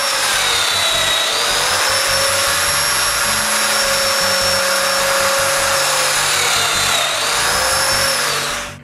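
A domino joiner cuts mortises into solid hardwood edging with a loud, sustained high-pitched motor whine. The pitch shifts slightly as the cutter plunges and withdraws, then the tool spins down near the end.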